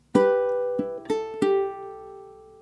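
Ukulele plucking four ringing notes of a bar of Scarborough Fair, clear and close, each note sustaining and fading without any talking.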